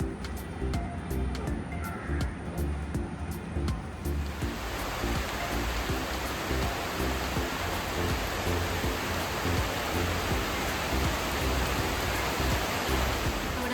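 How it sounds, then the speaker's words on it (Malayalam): Heavy rain falls steadily and loudly as a constant broadband wash, beginning quieter with a few faint ticks and filling in fully after a few seconds, continuing unbroken throughout. "ബാക്ക്ഗ്രൗണ്ടിൽ നല്ല മഴ പെയ്യുന്നുണ്ട്"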